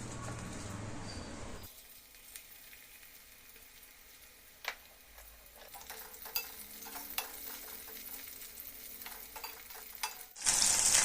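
Ivy gourd coated in corn flour fries in hot oil, giving a soft, steady sizzle with occasional crackles and light stirring, fairly faint throughout.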